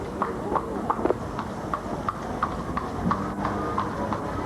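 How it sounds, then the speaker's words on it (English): Horses clip-clopping across a plaza in Spain or Portugal, a steady run of hoof clicks at a moderate distance behind ambient outdoor noise. "there's the horses going along behind us."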